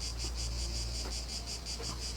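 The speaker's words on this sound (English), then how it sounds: "What is that, crickets? It's like deafening. I can barely hear myself think. They're cicadas." A loud, dense chorus of cicadas buzzes continuously in pulsing waves, filling the air with a shrill drone and no other sound.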